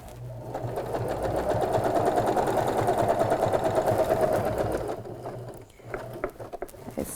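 A sewing machine stitches a sleepover bag in a fast, even run of needle strokes lasting several seconds, then stops, followed by a few soft handling clicks and knocks.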